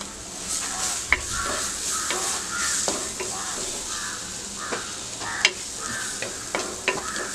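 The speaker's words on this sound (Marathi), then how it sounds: "मसाले सगळे परतून झालेले आहेत" Spices and red chilli powder with coriander sauté in a pan for egg kheema, making a soft continuous sizzle with scattered clinks and scrapes of stirring, and faint crow caws far off in the background.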